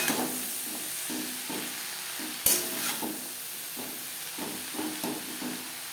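Gourd leaf stalks are stirred in a hot pan, a soft sizzle under a slow series of spatula scrapes, with one sharp clack partway through.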